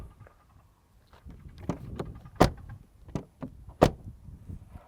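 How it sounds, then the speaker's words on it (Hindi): Doors of a Citroen C3 car being opened and shut nearby, a run of latch clicks and dull clunks with two sharp, loud slams standing out and no one talking. "दरवाजे सॉलिड हैं और मुझे खोलने बंद करने में मज़ा आ रहा है"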